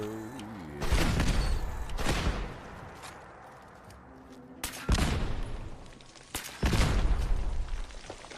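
Guns firing in Fallout 76, several heavy booming bursts of rapid gunfire spaced a second or two apart, loud and close, each followed by a rumbling tail.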